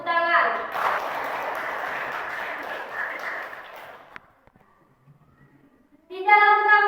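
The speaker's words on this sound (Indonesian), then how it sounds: "Tepuk tangan." Classroom applause from a group of pupils, a broad steady clatter of clapping that fills most of the first four seconds, then a quiet gap before children's voices return.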